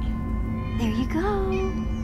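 Cats meowing in the game Minecraft: Story Mode, a few rising, drawn-out meows in the second half over a steady hum and game background.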